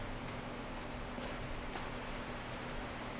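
Faint, steady wind from outside in the horror game Slender: The Arrival, a continuous hollow rushing whoosh heard alone at low level throughout.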